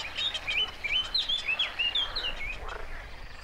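Small birds chirping at Vrana Lake nature park in Croatia, a quick run of bright, close tweets repeating over a soft outdoor background.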